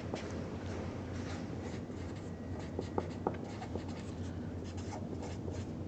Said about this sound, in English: So let's write that sentence here.